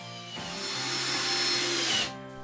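Power drill driving screws into model railroad fascia panels, a single steady whirring run of about one and a half seconds that starts and stops abruptly, close and fairly loud with no talk.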